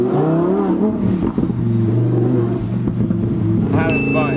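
A blue Lamborghini Huracan at a tuning shop, its engine droning and revving loud and close with steady low harmonics, a brief clatter midway and a rising whine near the end, with voices faintly mixed in.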